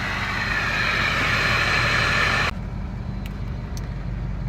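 Ford 6.0 Powerstroke diesel truck engine idling steadily up close, a continuous low rumble with a broad hiss that drops off sharply partway through, leaving a quieter steady idle with a few faint clicks.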